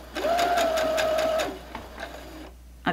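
A Brother HC1850 computerized sewing machine stitches forward in a close, steady whir of roughly a second, then falls quiet apart from faint clicks.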